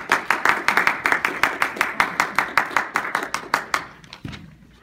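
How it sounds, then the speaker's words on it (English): A small group at a Toastmasters meeting claps in a quick, even rhythm of distinct sharp hand claps, close and clear, then tapers off into near silence at the end. "Let's give a big round of applause for my esteemed colleague"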